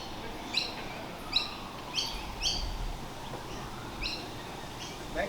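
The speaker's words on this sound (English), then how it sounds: "Magpies." Australian magpies give short, bright warbling calls in several spaced bursts, moderately distant over a soft outdoor background hum with no talking.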